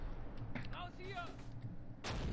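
A Churchill tank fires artillery in the Close Combat World War II strategy game, a single broad boom near the end after someone talks over quiet game ambience.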